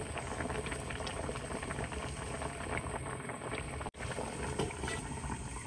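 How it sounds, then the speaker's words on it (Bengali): Crab curry broth bubbles at a steady rolling boil on a gas stove, a close, continuous dense simmering texture with a brief dropout near the end. "ঝোল ফুটে গেছে"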